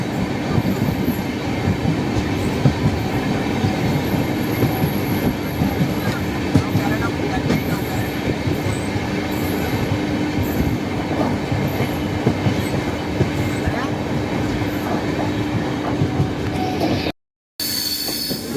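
The Grand Trunk Express train running on rails as it enters Sevagram Junction, with a loud, continuous rumble, rattling carriages, wheel squeal and clicking joints, and a brief cutout near the end.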